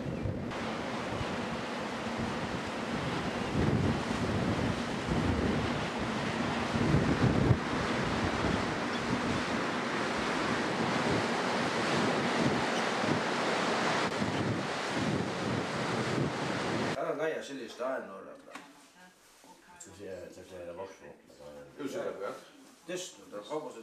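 Strong wind roars and buffets the microphone over crashing waves on the coast of Suðuroy in the Faroe Islands. The noise is loud and steady, then drops away to a quieter stretch near the end.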